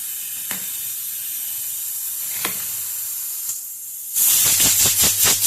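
A pressure cooker with onion and okra venting steam, a steady hiss with brief sharp spurts, then a louder pulsing whistle burst near the end.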